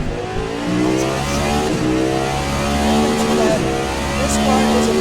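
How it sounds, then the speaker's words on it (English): Cadillac V prototype race car in a racing video game, its engine revving loud and close in a steady, rising and falling sweep of high-pitched harmonics that continues without break. "this is the same engine that the NASCAR Cup Series used in their next gen car. That's why it sounds similar."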